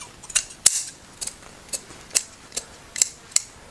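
Scissors snipping through excess upholstery fabric on a footstool, about nine crisp, sharp cuts at an uneven, unhurried pace, close and clear with no talk.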